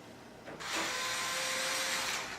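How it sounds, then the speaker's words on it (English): A power drill or electric screwdriver driving a screw to fix a computer power supply in place, one short, close, steady whirring burst of under two seconds; no talking. "And now I can go ahead and put the other 3 in."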